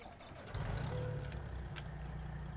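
Truck engine cranking and turning over in American Truck Simulator, a low rumble that swells up and settles into a steady run, fairly quiet, with no voices.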